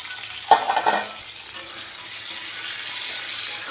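A spoon clacks a few times against a pan, then a steady sizzle follows as cashew, poppy seed, tomato, green chilli and ginger are stirred and fried in oil for a ridge gourd and potato malai curry.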